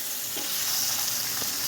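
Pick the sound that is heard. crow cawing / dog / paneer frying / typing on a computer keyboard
paneer frying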